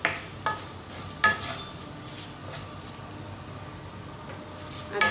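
Tomato soup base with red chilli powder, salt and turmeric is stirred in a pot, making a soft, even sizzle broken by a few sharp spoon taps against the metal.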